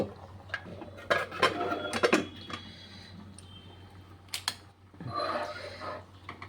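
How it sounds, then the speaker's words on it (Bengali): A metal lid set down on a pot of simmering vegetable pulao in a home kitchen, giving a few light clinks and taps among other faint utensil knocks. "এইবারে লিডটাকে বন্ধ করিব।"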